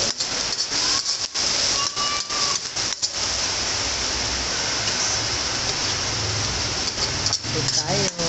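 Onion, garlic and tomato sizzle steadily in a hot pan for a pakbet, a loud continuous crackling hiss with occasional clatter, while a person talks over it.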